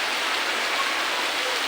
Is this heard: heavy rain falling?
yes